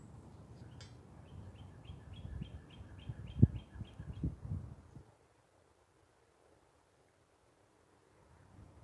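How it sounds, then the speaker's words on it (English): A small bird chirps in a quick series of high, evenly spaced tweets over wind and outdoor rumble, then the sound cuts to near silence. "Some kind of bird right there."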